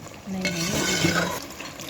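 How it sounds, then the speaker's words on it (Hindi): A cup of water pours into chicken shahi korma gravy in a pot, making a short splashing, bubbling rush with a soft voice underneath. "ये 1 कप इसमें पानी जा रहा है"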